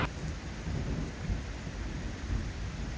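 Heavy rain pouring steadily during a walk through Europe, with deep rolling thunder rumbling underneath, close and continuous without talk.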